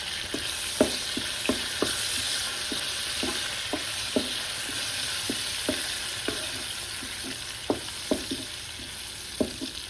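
Green chillies, curry leaves and turmeric fry in hot oil, a steady loud sizzle broken by a dozen or so sharp spattering pops and stirring taps, with no talking.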